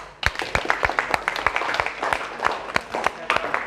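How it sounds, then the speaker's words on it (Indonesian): A classroom group gives a short round of applause, dense clapping from several people nearby, steady for a few seconds. "Ya, mungkin aplaus."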